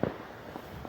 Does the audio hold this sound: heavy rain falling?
no